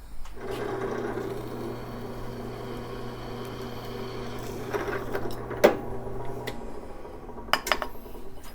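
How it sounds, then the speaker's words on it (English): A drill press motor hums steadily at close range while drilling metal, with a few sharp metallic clinks and taps toward the end. "And then go to the drill press."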